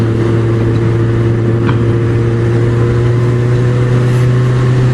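A Kawasaki Z1000 motorcycle cruises steadily in sixth gear at about 75, its engine holding a constant drone under strong wind rush, loud and unchanging throughout.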